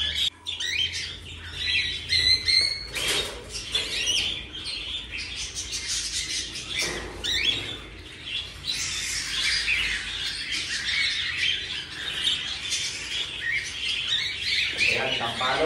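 Parakeets and cockatiels in an aviary squawk and chirp continuously, a dense, shrill chorus of overlapping calls with occasional wing flutters, close and fairly loud throughout.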